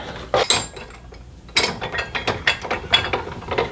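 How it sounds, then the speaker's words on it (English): Barrel wrench loosening the barrel nut on an M&P handrail, giving a series of sharp ratcheting clicks and clanks in irregular bursts, loud and close. "Okay, barrel wrench."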